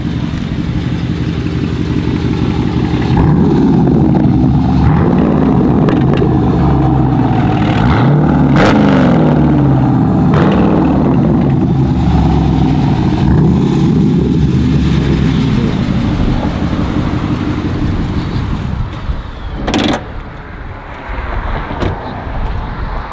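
A Jeep SRT all-wheel-drive engine revs hard outside, a loud sustained roar with repeated throttle blips and clattering, easing off briefly near the end.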